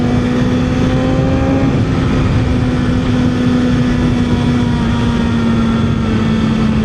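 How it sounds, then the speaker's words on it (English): A passing Harley-Davidson motorcycle on an overcast day, a steady loud engine drone with a sustained low tone, continuous throughout with no talking. "Harley boy is out today, getting a ride in."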